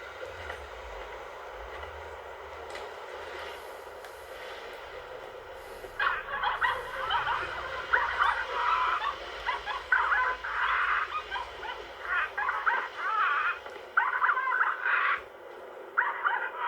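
A dog barks repeatedly in the video game The Cave, a run of sharp yips and barks starting partway through over a low rumbling ambience.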